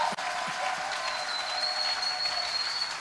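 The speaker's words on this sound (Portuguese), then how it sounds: "Fortes aplausos" A church congregation claps strongly during a worship service, a thick sustained wash of applause from many hands, with a faint high whistle-like tone riding above it.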